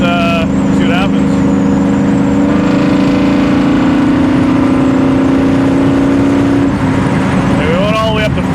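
A 1957 Chevy's engine drones steadily at high revs in top gear on a long road trip, a loud sustained whir with road noise that fades near the end, while someone speaks over it.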